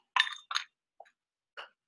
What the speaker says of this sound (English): you can just pour it straight into your glass, which is what I'm going to do